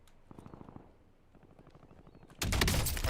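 Video game gunfire during a rooftop exchange with a sniper: bursts of rapid automatic shots at first, then quieter scattered firing, ending in a loud, dense close-range burst.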